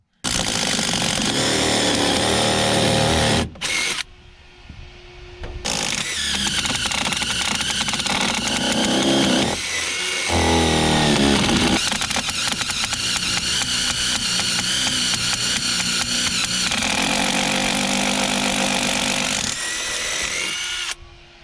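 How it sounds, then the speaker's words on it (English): A power drill bores into the log wall of a tiny cabin to run solar panel wires, whining loudly in long sustained bursts with brief pauses between runs. "Now we're able to go ahead and drill into the cabin here and get those wires in from the solar panel."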